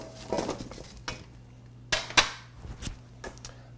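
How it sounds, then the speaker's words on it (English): Hot baked potato wedges tumble off a baking sheet into a bowl, giving a few scattered soft clatters and a couple of sharper clinks against the dish, close by with quiet gaps between. "We're going to take them off their sheet, put them in the bowl, and mix them with all the other ingredients"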